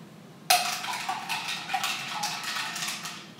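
A cocktail of rum, blue curacao, sparkling water and a splash of orange juice stirred in a glass: a sudden start, then a steady run of light clinks and scraping against the glass, close and fairly quiet.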